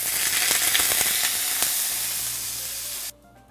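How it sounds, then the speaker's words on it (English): Sous vide turkey with its skin down sizzles loudly and steadily in a hot frying pan, crackling up close before the sound drops off suddenly near the end. "All we're going to do now is fry it so that nice skin on there will have a nice edge."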